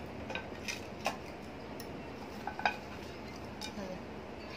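New ceramic plates and bowls for a kitchen are handled and stacked, giving faint scattered clinks and light knocks over a quiet room.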